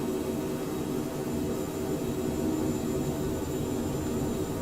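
A simulated Cockspur Mustang light jet in MSFS 2020 holds takeoff power, giving a steady, loud, broadband engine roar with a constant whine that never lets up.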